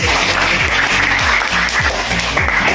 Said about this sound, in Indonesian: Tepuk tangan untuk Surage